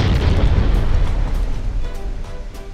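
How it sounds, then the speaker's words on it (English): A torpedo strikes a warship in the naval combat game Ultimate Admirals: Dreadnoughts, giving a loud, deep rumbling explosion that rolls on and slowly fades like churning surf, with no talk over it. "I cannot dodge the torpedo."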